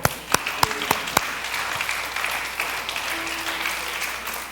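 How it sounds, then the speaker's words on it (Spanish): Congregation applauding during a church service, a few loud separate claps at the start settling into a dense, steady wash of clapping from many hands. "Denle un aplauso al Señor."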